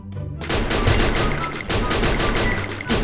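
Dense, continuous gunfire from a first-person shooter video game, with rapid overlapping shots running loud and steady throughout.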